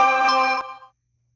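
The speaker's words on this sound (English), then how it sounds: "you just got a notification on there" A phone notification chime rings out loud and close, a bright harmonic tone lasting just over half a second before fading quickly into silence.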